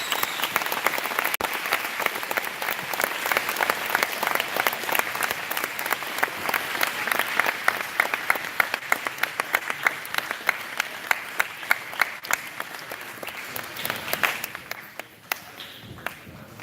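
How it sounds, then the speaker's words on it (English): Sustained applause from a school assembly crowd honoring students and veterans at a high school Veterans Day event, dense steady clapping for about fourteen seconds before thinning out to scattered claps. "One more round of applause for our students and our veterans."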